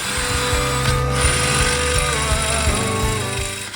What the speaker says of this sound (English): So I'm going to drill that out